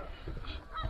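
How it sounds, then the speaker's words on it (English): Geese honk in the distance, a few faint nasal calls over low background rumble. "There's them stupid guard geese. They're quacking all night"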